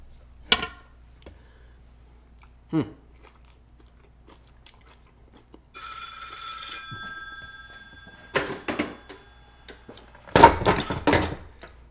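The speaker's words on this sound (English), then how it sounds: "I got a phone call coming through" A phone rings with an incoming call, giving a steady electronic ringtone partway through. Before it come isolated crunchy bites and small handling noises, and after it come louder rustling and chewing sounds close up.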